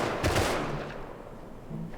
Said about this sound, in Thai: เฮ้ยเสียงปืน เอามันยิงเรานี่ไงครับ